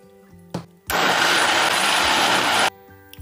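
A blender whirs loudly for about two seconds, processing tiger nut, coconut, ginger and 400 ml of water into a drink, with a sharp knock before it starts and quiet clicks after it stops.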